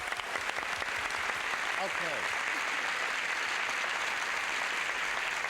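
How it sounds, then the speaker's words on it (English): Studio audience at a 1973 Match Game taping applauds the two contestants, a dense steady wash of clapping throughout, with a brief spoken word over it. "First, a brisk round of applause for our two players"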